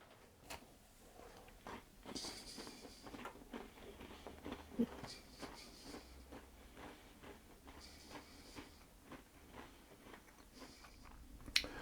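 Cardamom and lemon shortbread biscuit is bitten and chewed close up, giving a steady run of crisp crunches and soft chewing with no voice over it.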